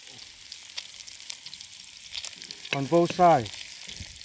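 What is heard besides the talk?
beef frying in pan, browning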